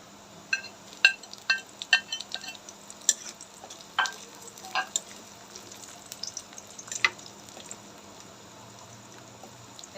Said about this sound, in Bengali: পেঁয়াজটা লাল লাল করে ভাজা হয়ে গেছে, বেশি লাল করবো না, হালকা হালকা লাল। এবার আমি কাঁচামরিচটা দিয়ে দিব।